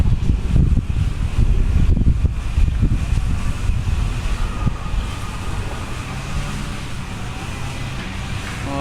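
Steady wind rumbles and buffets continuously, with low gusty roar throughout, a bit stronger at the start and easing slightly toward the end.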